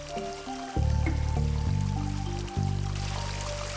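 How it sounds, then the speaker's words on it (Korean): Water pours and swirls into a two-tier stone basin at the inlet of a traditional Korean garden pond, a steady close rushing and gurgling flow with a low tonal hum underneath, no voices. "2단 석조에 들어온 물은 맴돌고 부딪히며 다음 단계로 나아간다."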